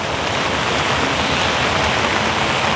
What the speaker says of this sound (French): Il pleut pas mal.